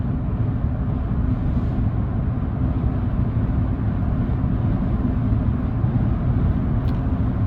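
Steady, even cabin rumble and wind roar inside a Tesla Cybertruck cruising at highway speed into a strong headwind, dense low noise with no breaks or talk.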